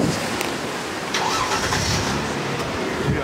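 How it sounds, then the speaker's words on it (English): A parked car's engine idles outdoors, a steady, even rumble with broadband noise throughout, moderately close and unchanging over a few seconds, with no talking. "I leave the engine running so we can take off in case another police car comes."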